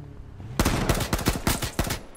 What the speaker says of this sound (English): I'm shooting his legs.